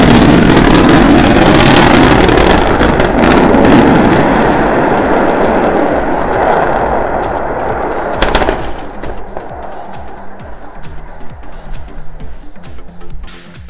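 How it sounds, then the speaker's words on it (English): A SpaceX Starship SN9 prototype relights two engines during its high-altitude test flight, a loud crackling, rumbling roar that fills the clip and then thins into rougher, sputtering bursts over the final seconds. "We're preparing to restart two engines, flip the vehicle vertical, then transition to one engine for the landing burn."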